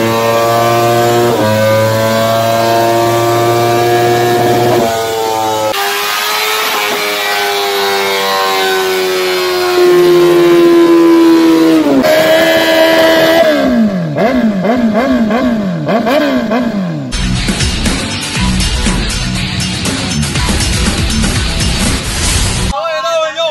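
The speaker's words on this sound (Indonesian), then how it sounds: "perlu nggak sih motor di dyno test?" A T-Rex motorcycle engine revs on a dyno, with rising and falling engine pitch through repeated throttle sweeps, then a harsh, loud, sustained high-rev roar toward the end.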